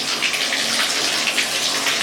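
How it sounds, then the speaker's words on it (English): A shower runs steadily after its valve stem is replaced, giving a loud, constant hiss and splash of water that carries on throughout with no voices. "I've turned on the water, so I'm just going to test, make sure it's coming out okay"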